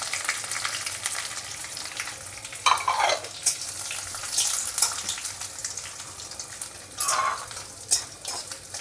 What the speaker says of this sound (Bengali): হিং দিলাম, দিয়ে অল্প একটু ছোলার ডাল আর একটু কলাইয়ের ডাল দিয়ে দিলাম এই ভাজার সাথেই